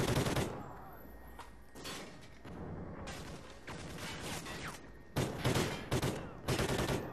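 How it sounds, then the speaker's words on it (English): Gunfire in the video game Ghosts during a campaign mission: loud bursts of automatic fire start and stop, with heavy volleys at the start and near the end and quieter stretches of game noise between. "I hear shots, but he's not shooting at us."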